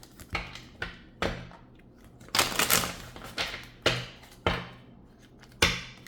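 Crisp rustling snaps of tarot cards being shuffled, in repeated short bursts roughly every half second, close and fairly quiet, with no talking.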